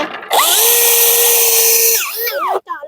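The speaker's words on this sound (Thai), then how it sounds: "ตะอ้วนเจาะเลยเราตีให้" A power drill whines at a steady pitch for about two seconds while floor tiles are being laid. It is loud and close, spinning up sharply, holding its tone, then winding down before a brief pause.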